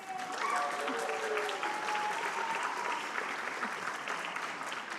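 An audience applauds at a high school AVID Class of 2025 senior celebration, a full, loud wash of clapping that holds steady throughout, with faint crowd voices mixed in.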